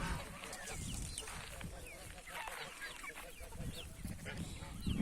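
Chickens cluck and chatter close by in a busy coop, with a voice speaking softly underneath.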